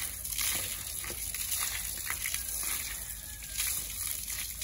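Water from a hose gently sloshes and splashes over a horse's front legs during its first bath, continuous and moderately close, with faint voices in the background.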